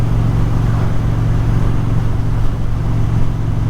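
Indian Springfield motorcycle cruising along a road, its engine a steady, loud low rumble with constant wind noise and no break in the drone.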